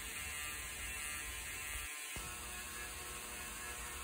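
A belt grinder running a 240 grit belt over a chef knife bevel gives a steady, loud abrasive whir throughout, with a brief dip in the low rumble partway through as the blade shifts on the belt.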